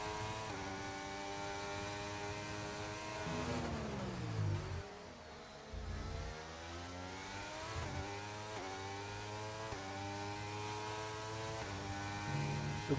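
A McLaren Formula 1 car on a flying qualifying lap at Austria in the F1 23 video game gives a loud, continuous high engine whine that climbs through the gears, with one sharp dip and recovery as it brakes and accelerates again.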